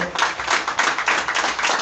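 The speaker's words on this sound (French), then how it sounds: "que je vous demande d'applaudir très fort" Audience applause at a Gabonese political declaration during the 2023 presidential race, brisk clapping from a crowd, loud and continuous for the whole short span.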